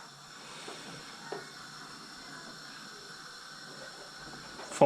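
Steady low hiss and rumble of a pot of beer wort at a rolling boil during a brew-in-a-bag brew day, constant and fairly quiet, with a brief clunk near the end.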